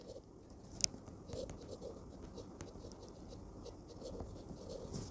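A pen moves across paper while a statistics problem is worked out, producing soft, continuous scratching strokes that are close but quiet, with a faint tap along the way.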